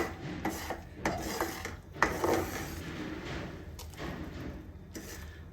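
Utensil stirring toasted sesame seeds into melted palm jaggery in a pan, giving close, fairly loud clinks and scrapes in an irregular rhythm with no one talking.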